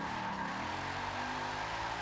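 Bugatti Chiron hypercar drifting in the racing video game Forza 7, with continuous loud tire squeal over a steady engine drone, sustained through the whole stretch without pause.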